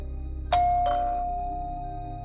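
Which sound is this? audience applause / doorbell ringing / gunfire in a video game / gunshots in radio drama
doorbell ringing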